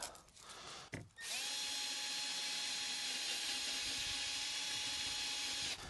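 A power drill fitted with a 3000-grit NYMN 3-inch sanding and polishing pad whirs at a steady high pitch after a brief start-up, holding close and constant for several seconds, with no talking.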